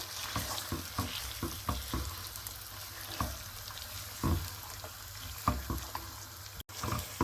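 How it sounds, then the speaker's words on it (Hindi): Chicken for a chicken gravy fries in a pan over medium to high flame, giving a soft, continuous sizzle broken by scattered spoon scrapes and clacks, quiet and close, with no talking. "थ्री से 4 मिनट चिकन की भुनाई करेंगे।"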